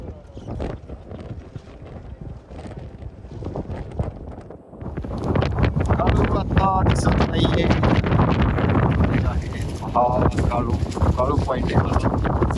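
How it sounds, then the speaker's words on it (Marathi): Strong monsoon wind at the Kalu waterfall point in fog, buffeting the microphone with heavy rumbling gusts that grow louder midway, and voices speak over it. "वारा आहे, छत्र्या चालत नाहीत"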